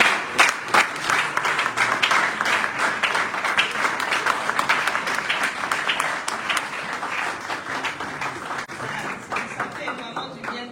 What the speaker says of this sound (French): je voudrais vraiment que nous puissions applaudir pour le docteur